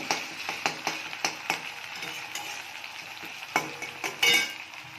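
Ginger pieces frying in hot oil for Indian cooking, giving a steady crackling sizzle with repeated stirring scrapes and clinks of a utensil against the pan, close and moderately loud, with no talking.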